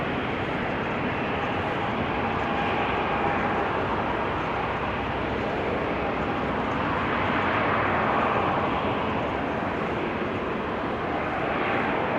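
Airliner engines at Amsterdam Schiphol Airport in showery weather, a loud continuous jet roar with a broad rushing whine, steady throughout and close by.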